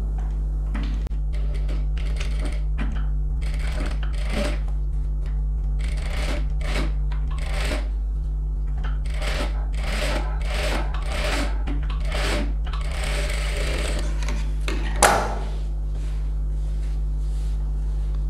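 A sewing machine stitches a blouse in quick bursts of rapid needle clatter over a constant motor hum, stopping and starting at irregular intervals, close up with a sharp clack near the end.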